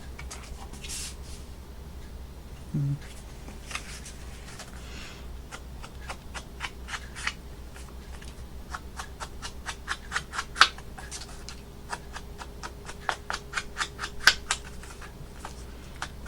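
Scissors snipping through paper to trim part of a handmade paper craft pocket, with many small irregular clicks and cuts in close, quiet succession over a faint background hum.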